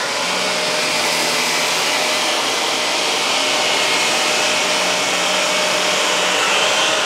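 Shark Navigator Zero-M upright vacuum cleaner running on carpet, a loud, steady close-up roar with no breaks.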